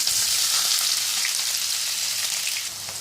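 Onion frying in hot oil with cumin seeds in a karahi for a dhaba-style chicken keema, giving a steady, close, loud sizzle that eases slightly near the end, with no talking.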